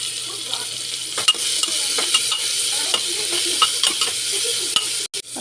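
Tomatoes salted in a frying pan give off a loud, continuous sizzle with occasional stirring clicks and scrapes throughout, and a brief clatter near the end. No one speaks.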